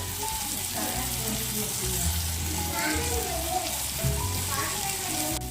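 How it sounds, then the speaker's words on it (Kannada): Corn rice with grated coconut frying in a pan, giving a steady, close sizzle with occasional stirring scrapes, continuous throughout and without voices. "ಇದನ್ನು ಸ್ವಲ್ಪ ಹುರ್ಕೊಂಡು"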